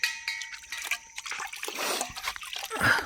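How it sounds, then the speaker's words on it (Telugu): Water splashes and trickles as bamboo tubes are washed outdoors for bamboo chicken, with close irregular pouring and sloshing that builds toward the end, under faint background voices. "బొంగులు కడుగుతున్నారు మణిగారు."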